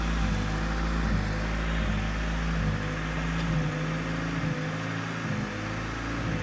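A turbocharged K23 engine swapped into a Honda Civic EG idles steadily, a low continuous rumble with a slightly uneven, lumpy tone that holds close and loud throughout.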